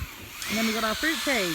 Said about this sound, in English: Excuse the noise of the drill in the background